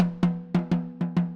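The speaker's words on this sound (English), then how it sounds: "You can also take the snare wires off if you want." A sampled snare drum from Superior Drummer with the snare wires off rings out in six clean, tonal hits. Each strike is hollow and tom-like with a short decay, spaced unevenly and heard alone.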